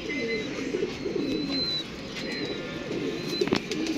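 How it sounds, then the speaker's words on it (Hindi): A female pigeon coos repeatedly at close range, with soft low calls running through a few seconds over light background noise and faint chirps. "ये देखें उड़ी उड़ाई कबूतरी है"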